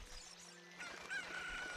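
A chicken in the video game Ocarina of Time sounds a short, bright squawking call, fairly faint under a low background wash.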